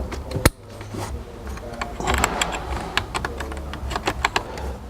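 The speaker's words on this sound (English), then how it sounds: "we're going to take a little razor blade and cut that down." A small razor blade slices tape off the fog lamp plug of a 2017 Subaru Forester, making a series of close, sharp ticks and scratchy clicks in an irregular rhythm, with one loud snap near the start.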